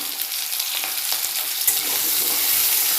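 Potatoes frying in a pan with salt and turmeric give off a steady, close sizzle and crackle, with brief stirring scrapes and the frying growing a little louder toward the end.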